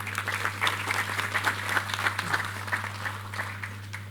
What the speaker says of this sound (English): Ladies and gentlemen, please a warm round of applause for Otumba Ni Adebayo.